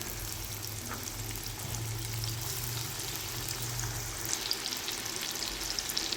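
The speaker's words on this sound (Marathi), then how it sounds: "इथे कढई ठेवली, कढईत तेल टाकलं आहे. कढईमध्ये बारीक, एकदम बारीक फाईन कांदा चिरून घ्यायचा आहे थोडाच." Finely chopped onion frying in oil in a kadai gives a steady, fairly faint sizzle with soft crackles throughout, no one talking.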